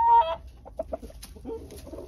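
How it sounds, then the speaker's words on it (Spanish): A hen that lays blue eggs clucking, a close quick series of short clucks rising into a drawn-out cackle, heard alone without talk. "la gallina empieza a cacarear un poquito más"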